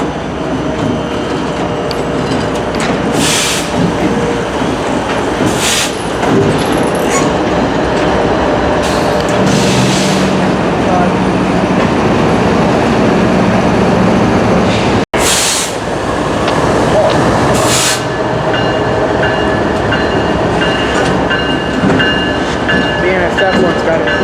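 In a Denver rail yard, a BNSF remote-controlled locomotive moves boxcars: a long, loud rumble of rolling stock with clattering wheels, squealing tones, and a sharp clank of couplers midway, close by and continuous.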